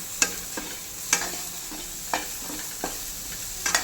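Onions and tomatoes with a bunch of mint sauté in a pan, giving a soft continuous sizzle broken by sharp, irregular scrapes and taps of a stirring spoon.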